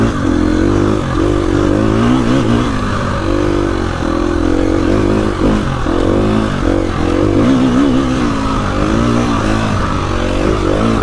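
A KTM EXC-F 250 four-stroke dirt bike runs loud and close, its engine droning steadily with small throttle rises and falls and some mechanical clatter, no voices.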